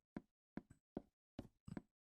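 Doors in a Minecraft recreation of the Herobrine stream give five sharp, close knocks in uneven succession, some doubled, alone against silence.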